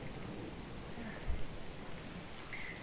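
Steady rain falls in the survival game Shelter 2, a soft continuous hiss of drops with a faint low thump partway through, quiet and even throughout.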